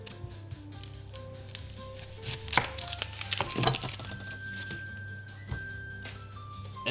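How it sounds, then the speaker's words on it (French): Knife chopping an onion on a board while making homemade burgers, a quiet sequence of crisp, irregular cuts with a couple of louder clustered strikes mid-way, amid faint kitchen hum and no talk. "On va couper l'oignon."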